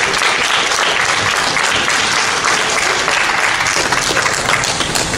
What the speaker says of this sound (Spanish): Dale un aplauso a Jesús por su resurrección.